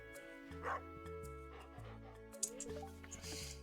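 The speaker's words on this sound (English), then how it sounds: "Excited dog sounds." Game audio in a casual farming video game plays an excited dog's yips and whimpering barks in several short bursts over background music, fairly quiet.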